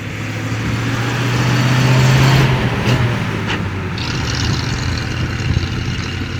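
A 1939 Horch 854 Special Roadster, a rare restored prewar car with matching numbers, runs steadily with a loud, low engine note that swells briefly, then settles into an even idle without any talking.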